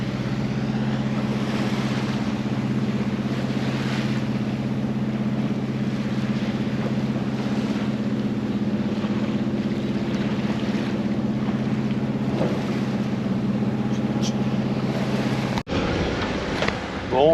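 A steady sailboat motor drone hums continuously with a low rumble, accompanied by wind and faint water noise, with a brief thump near the end.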